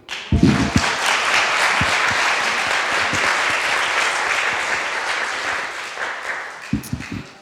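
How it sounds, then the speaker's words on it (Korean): Church congregation applauding during a Sunday morning service at an air force base church, a sustained, fairly loud wash of clapping lasting several seconds, with a few sharper close claps at the start and end. "우리 하나님께 감사와 영광의 박수 함께 올려드리도록 하겠습니다"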